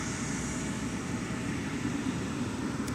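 Delta 1850, a scheduled airliner arriving from Tampa, inbound at Minneapolis–Saint Paul airport, heard as a steady broadband jet roar that holds even and moderately loud, somewhat distant.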